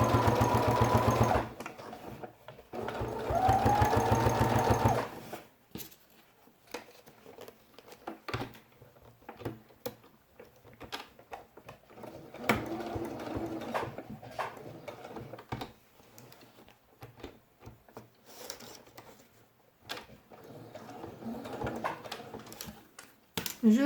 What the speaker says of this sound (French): Et je couds jusqu'à 8 mm.